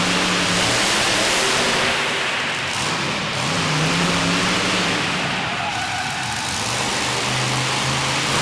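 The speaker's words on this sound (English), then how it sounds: "And Bobby launches the stabilizer truck all the way across the cars." Monster truck engine roaring at a Monster Nationals event in Corbin, Kentucky, a loud, steady mid-pitched rumble with crowd and arena noise, no speech.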